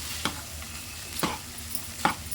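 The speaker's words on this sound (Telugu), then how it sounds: "అన్నం అంతా చక్కగా కలిపేసుకోవాలి" Cooked white rice being stirred through a lemon rice mixture, giving three soft, spaced scraping strokes against a quiet background with no talking.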